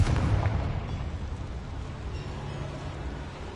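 A fire-spell explosion from the Hogwarts Legacy video game booms loudly at the start, then fades into a rumbling, crackling roar that lingers for a few seconds.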